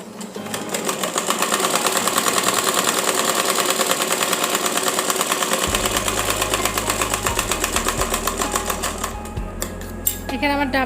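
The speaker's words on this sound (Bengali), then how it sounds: "এখানে আমার ডাবল সেলাই করে নিতে হবে" A sewing machine double-stitches fabric for a child's umbrella frock: a loud, rapid, steady rattle of needle strokes that runs throughout, with a short hum-like shift near the end and faint talk at times.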